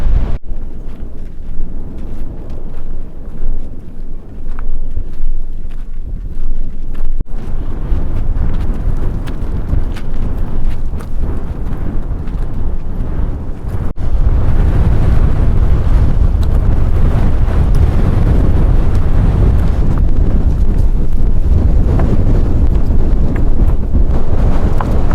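Strong wind roaring across open high ground in Algeria's Ahaggar mountains, a loud, continuous buffeting rumble that thickens and grows heavier about halfway through, with no voices over it.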